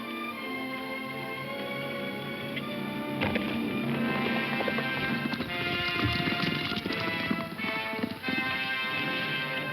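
Steady clip-clop of several horses running at a fast pace, continuous and fairly close, with a busy hoof rhythm throughout.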